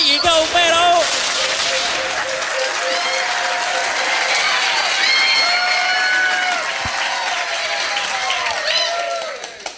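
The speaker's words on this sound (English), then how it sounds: "Give them a huge round of applause" Sustained audience applause for winning teams at a trivia quiz night in a bar called The Yard, steady dense clapping with some cheering throughout, close and loud, fading slightly near the end.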